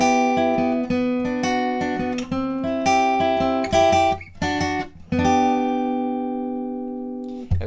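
Acoustic guitar plays the outro phrase of a song, a flowing run of plucked notes ringing over one another, then a final chord left to sustain and fade, close and clear with no talking.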